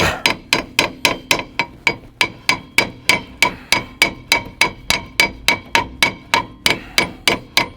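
A hammer striking the rear brake drum of a 2000s Ford Focus Mk1 1.6, a loud, close series of more than twenty sharp metallic blows in a quick, steady rhythm with short ringing decays.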